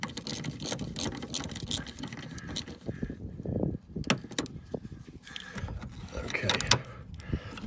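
A ratchet loosening a bolt on a BMW 435d bumper, with bursts of quick clicking and mechanical rattling, close up and uneven, separated by brief pauses.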